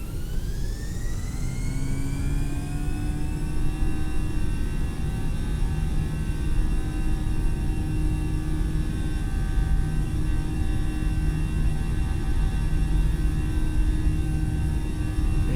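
Airbus A320 jet engines spooling up on the takeoff roll in Microsoft Flight Simulator on Xbox Series S, a steady loud roar with rising whine tones that level off and hold through the run.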